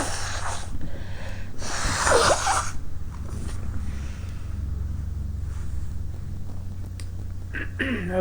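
A person lets out a massive sneeze, a loud breathy burst near the start followed by a bigger explosive one, then sniffling and breathing noises close by.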